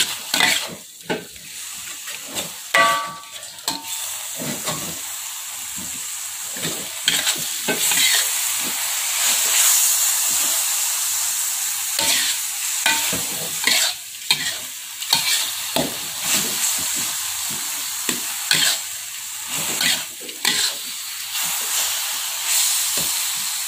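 Cassava leaf sambal stirred as it fries in a pan: a steady close sizzle and hiss, broken by repeated scraping stirs, with no talking.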